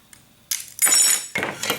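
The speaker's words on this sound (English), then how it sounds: "you can do those crazy cuts on the glass" A handheld tile and glass cutter scoring and working a piece of stained glass, giving a few short, close, gritty bursts of scraping and snapping with brief pauses between them.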